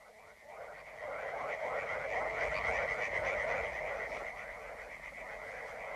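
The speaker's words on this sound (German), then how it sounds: "Die Frösche in den Altwässern, sie sind so laut, dass ich dich nicht höre." A dense chorus of frogs croaks in backwater ponds within a German radio play, with rapid overlapping trilling calls that swell and then ease slightly, heard up close and steady.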